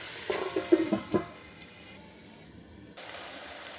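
Vegetables stirred in a pan over a high flame give a few clattering scrapes and clinks up front, then a soft, fading sizzle.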